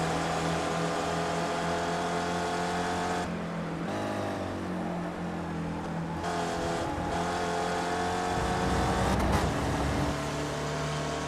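A race car engine in the iRacing sim at Road America drones steadily and loudly throughout, with pitch shifts as it changes gear and brief dips, no voices present.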